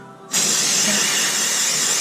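A steady, loud spray hiss of cleaner on Chevy Silverado engine parts starts abruptly after a brief quiet moment and continues evenly to the end.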